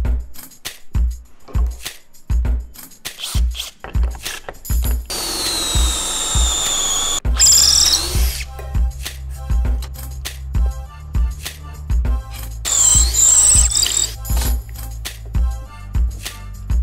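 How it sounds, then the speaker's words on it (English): A power drill bores holes into jarrah wood through a drill block, heard as two whining bursts of a few seconds each, close and fairly loud, over a steady thumping beat of background music. "I'm just going to make a drill block using this drill bit here"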